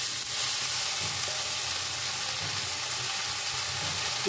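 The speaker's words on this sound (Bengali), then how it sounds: "এবার এই লাউটা এর মধ্যে দিয়ে দেবো।" Chopped bottle gourd hits a pan of sizzling spice tempering, setting off a loud, continuous frying hiss with stirring sounds underneath.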